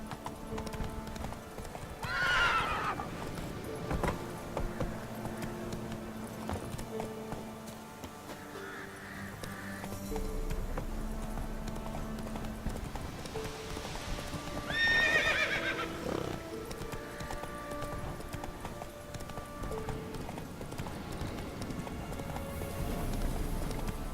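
Roach the horse from The Witcher 3, hooves clip-clopping steadily through a swampy setting with two clear neighs, one early and one mid-gallop, over faint ambient background.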